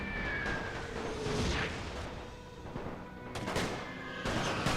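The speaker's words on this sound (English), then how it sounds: "My grenadiers firing down through here upon them." Grenadiers fire in a World War I strategy game, with bursts of battle gunfire and booms coming and going over a dense, rumbling background of combat, and no talk.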